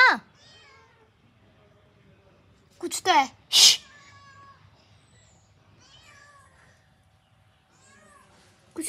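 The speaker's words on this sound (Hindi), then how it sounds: "मुझे कुछ म्याऊं म्याऊं क्यों आ रही है?" A domestic cat meows several times inside an old house, short sharp cries heard nearby between stretches of someone speaking.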